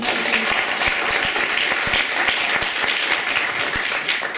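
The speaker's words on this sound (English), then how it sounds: "another round of applause for Zach" A community talent show audience in Leeds applauding a local performer: a steady, full wash of clapping with a few sharper close claps punctuating it, continuous throughout.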